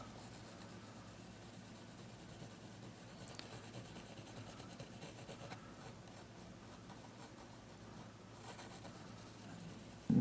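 A palette knife scrubs oil paint onto a canvas for a beach scene, making a faint, continuous scraping and rubbing with a few slightly louder strokes and no speech over it.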